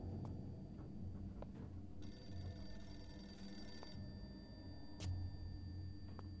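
A telephone rings in a PC video game, a steady electronic bell tone with repeated rings over a low, constant ambient background.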